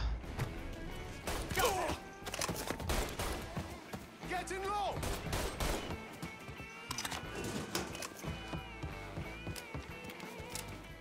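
Shotgun fire in the video game Mafia III comes as several sharp, booming blasts spread unevenly amid crashes and thuds, with a voice heard faintly along with the game action.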